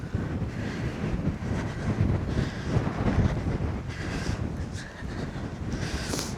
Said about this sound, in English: even though the wind's blowing, it's warm.